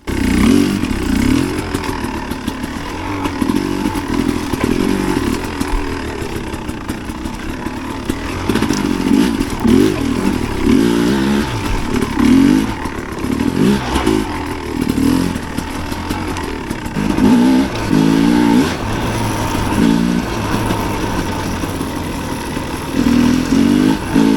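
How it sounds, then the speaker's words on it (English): A two-stroke dirt bike engine that has been running poorly runs steadily and loudly nearby, with a rough, buzzing idle and occasional uneven revs throughout. "So the two-stroke has been running kind of poorly the last couple rides."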